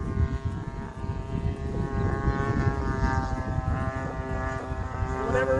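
Seagull Models Vans RV-8 RC airplane engine at throttle drones with a steady tonal whine aloft, rising slightly in pitch toward the end, over outdoor wind rumble.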